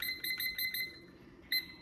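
A kitchen timer gives a rapid run of short, bright electronic beeps as it is set in a kitchen, then one more beep after a short pause, close and clear with no talking.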